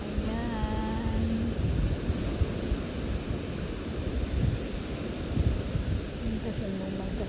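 Afternoon wind by the sea, a constant blustery rumble buffeting the microphone with surf-like wash beneath, a voice speaking briefly over it at the start and end.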